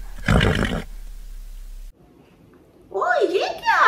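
A horse neighing, presented as an example animal sound: a short loud whinny burst near the start, then quiet, followed later by a high wavering call that may be a voice imitating the neigh.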